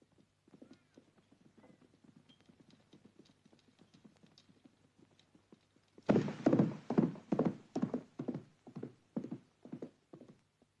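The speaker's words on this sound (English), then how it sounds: "Get the horses." Horses' hooves clip-clopping, first faint and distant with scattered steps, then a sudden close, loud run of evenly spaced hoofbeats trotting past.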